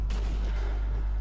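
Gunfire from the Zombie Army Trilogy video game, a single loud, sustained burst of shot and rumble that fills the whole short moment with no talk over it.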